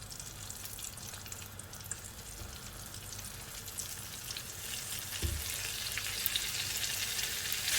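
Shrimp fry in a pan of hot oil, producing a steady, moderate, close sizzle with a single brief knock partway through and no talking.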